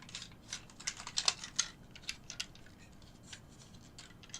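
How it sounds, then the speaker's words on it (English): Plastic parts of a Hello Carbot transforming toy robot being unclipped and folded out, giving a quick series of small, close clicks and snaps that cluster in the first half and then thin out, with no talking. "You then unclip these bits, these flaps here, bring out the arms, unfold the arms, fold them in, and fold that down"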